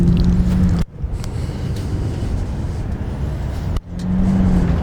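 Harley-Davidson Street Glide FLHX motorcycle with a new rear tire and engine guard, its engine idling with a loud, steady low rumble throughout, briefly cut twice by short dropouts; no talking.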